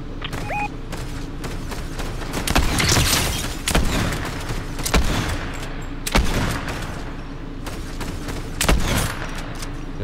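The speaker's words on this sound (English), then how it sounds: "Shooting over here." Rapid gunfire in the Fortnite video game, with loud repeated bursts and sharp shots scattered across the whole stretch, some close and punchy, others trailing off.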